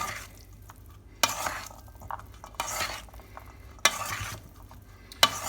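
Meat and vegetable pie filling with peas, carrots and onion gravy being stirred in a pan, several distinct scraping strokes with a quieter sizzle between them, close up and without talk.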